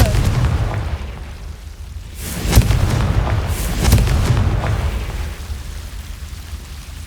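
The Confringo fire spell explodes in Hogwarts Legacy, giving two heavy booming blasts a couple of seconds apart over a rumbling, noisy game background, loud and near.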